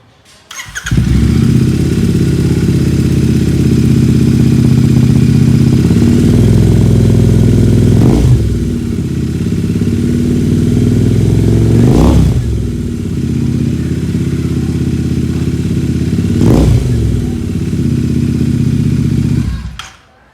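A Royal Enfield 650 twin with a Gursewak free-flow exhaust idles loudly with a rough throb, then revs sharply three times, each burst rising and falling back to idle.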